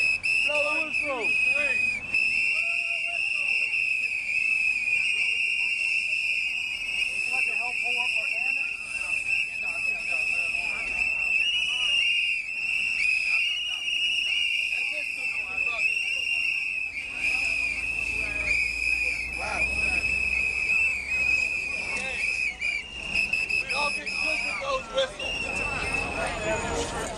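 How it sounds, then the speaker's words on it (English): Many whistles shrill continuously at once at a street event in Harlem, a loud sustained chorus with crowd chatter and noise underneath throughout. "Blow the whistle."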